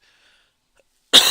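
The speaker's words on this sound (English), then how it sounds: "Excuse my cough." A single sudden cough bursts out near the end after near silence, loud and close, in a car during a drive delivering a new Toyota Hilux from Brisbane.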